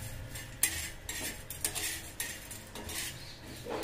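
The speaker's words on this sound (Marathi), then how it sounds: "याला सुद्धा आपण भाजून घ्यायचे" Peanuts, rice and chana dal dry-roast in a pan, with a spatula scraping and clinking against the metal in repeated close strokes, rattling grains underneath.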